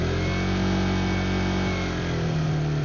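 A motorcycle engine fitted with a cruise-control throttle lock holds a steady, loud mid-pitched hum, revved slightly and sustained evenly with no voices.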